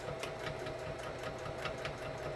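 A sewing machine stitching a DIY face shield mask, its needle running in a steady fast mechanical whirr with rhythmic ticking, close and continuous.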